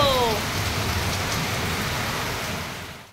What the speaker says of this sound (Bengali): বৃষ্টি পড়ছে, বৃষ্টি